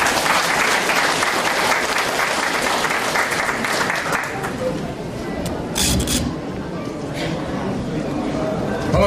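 Loud, continuous audience applause welcomes a speaker at a Korean campaign rally in Yeosu, with a voice talking over the clapping throughout.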